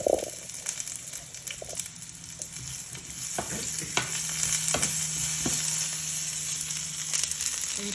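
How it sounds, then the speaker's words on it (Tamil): Spices temper in hot oil in a pan for a Jaffna-style bitter gourd curry, a close, steady sizzle with sharp crackles and pops scattered throughout. "போட்டு தாளிக்கிறேன்"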